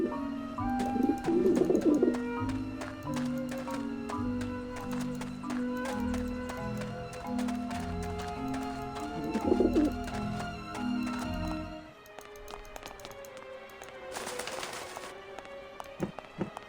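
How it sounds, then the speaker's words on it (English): Pigeons cooing in the video game Grim Fandango Remastered, soft repeated coos set against a dense, busy game soundscape with tonal music, fairly quiet overall with a brief bright burst near the end. "I don't like the looks of those pigeons."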